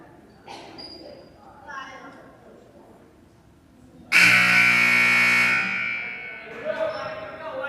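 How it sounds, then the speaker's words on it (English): A loud, sustained buzzer sounds at halftime of a high school basketball game in a gym, blaring for about two seconds after some scattered crowd noise and voices, with talk resuming as it fades. "Second buzzer."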